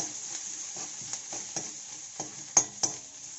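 A teaspoon of finely chopped ginger and garlic sizzles in hot oil for chicken vindaloo, giving a quiet, even frying hiss punctuated by soft rhythmic stirring taps and a couple of sharper clinks near the end.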